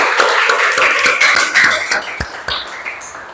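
A small group of people claps for a student in a classroom, with brief uneven claps that thin out after a few seconds.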